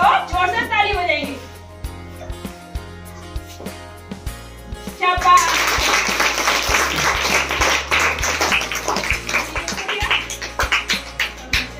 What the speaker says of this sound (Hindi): आप सब अगर सही हो तो जोर से ताली बजाएंगे।